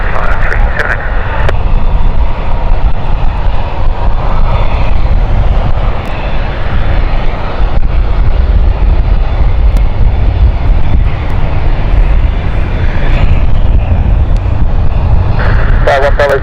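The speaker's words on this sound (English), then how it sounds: "runway 27, clear for takeoff" An airliner rolls for takeoff on runway 27 at London City airport, a loud, sustained engine roar filling the scene throughout, with radio chatter faintly mixed in.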